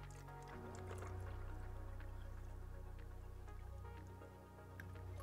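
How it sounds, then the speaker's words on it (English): Well water sample poured into a plastic test bottle, a steady close trickle and gurgle of liquid running for several seconds with a few drips. "So then all you do is just pour it into here."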